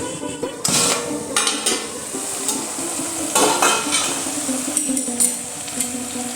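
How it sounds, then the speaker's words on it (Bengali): Metal pot lid clatters and scrapes as it is lifted off a simmering ash gourd chechki, with utensil knocks and a stirring, sizzling cook-pan sound running steadily beneath. "ঢাকাটা তুলে দেখি"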